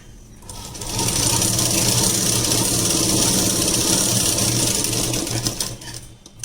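A sewing machine stitches a long gown made from an old saree, starting up and running as a loud, steady, close whir of rapid stitching for several seconds before slowing to a stop.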